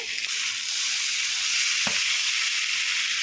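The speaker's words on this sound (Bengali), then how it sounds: "হয়ে গেছে সবজিগুলো ভাজা" Chopped vegetables with diced tomato fry in a pan over low flame, giving a continuous close, loud sizzle with a brief stirring scrape midway.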